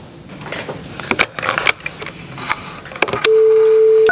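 A phone call being placed: after some clicks and rustling, a steady dial or ringing tone sets in and holds for the last second, loud and close.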